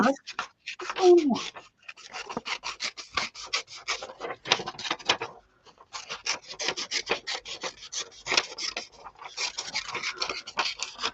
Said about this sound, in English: This is ridiculous using this pair of scissors.